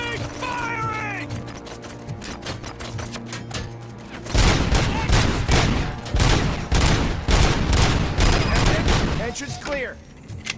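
Gunfire in the PS5 game Robocop: Rogue City: a shouted voice over background noise gives way to loud, sustained rapid-fire bursts of dense shots that keep going almost to the end.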